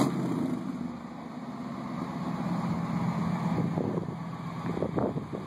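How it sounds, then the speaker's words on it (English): A 1939 Ford convertible's engine runs at a low idle with wind buffeting the microphone, then a few quick revs toward the end, fairly faint and heard from close by. "Rev it again."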